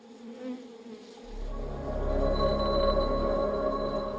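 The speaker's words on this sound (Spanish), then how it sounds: "así que las abejas siguen zumbando" Worker honeybees buzzing in a steady, dense drone that swells in after a quiet start and holds close and loud to the end.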